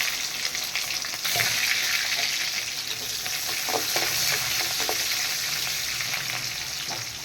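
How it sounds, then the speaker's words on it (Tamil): Mutton curry gravy for biryani, with fennel, a leaf and small onions, bubbles and sizzles in a pot, a continuous close hiss with scattered pops and a few stirring scrapes throughout. "பாருங்க குழம்பு கொதிக்குது பாருங்க"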